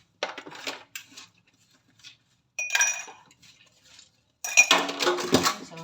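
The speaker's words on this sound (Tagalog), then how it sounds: "So, maghuhugas na ako ng pinggan." Dishes, pots and cutlery being washed in a home kitchen after a small family party, with bursts of clattering and clinking separated by quiet pauses, loudest near the end.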